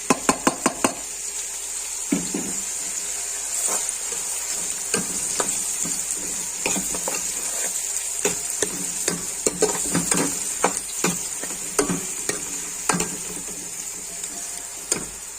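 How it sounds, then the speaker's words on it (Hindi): Onions sautéing in a pan for Rajasthani laal maas, a constant hissing sizzle with frequent rhythmic spatula taps and scrapes against the pan, close and fairly loud throughout. "प्याज डालेंगे,"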